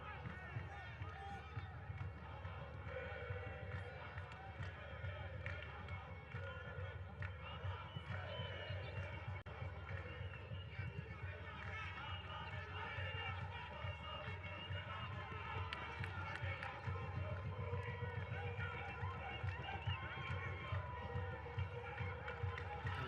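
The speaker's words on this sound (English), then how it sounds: "Crowd here certainly making themselves well heard" Football stadium crowd at an under-20 Africa Cup of Nations match between Senegal and DR Congo, a continuous distant roar of chanting, drums and cheering that holds steady throughout without any clear speech.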